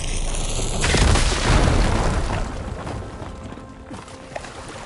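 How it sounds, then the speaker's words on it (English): A fire gleam deposit blown up in Horizon Forbidden West, a single loud near boom with a crumbling rumble that trails off over several seconds, followed by quieter debris clatter. "Should be able to blow up that fire gleam."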